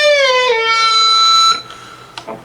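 An electric guitar note bends upward and then slides, gliding between pitches with a smooth sustained tone before fading into quieter string noise.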